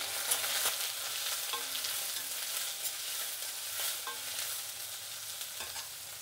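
Onions, green chillies and garlic fry together in a pan with a steady, close sizzle, broken by occasional soft scrapes and stirs of a utensil.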